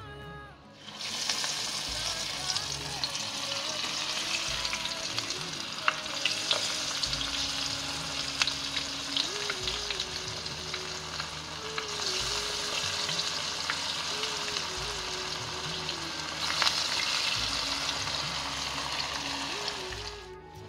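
Banana flower vada, shaped balls of vazhaipoo batter, fry in hot oil with a steady, loud sizzle and bubbling that runs continuously, with occasional light stirring and utensil taps in the oil.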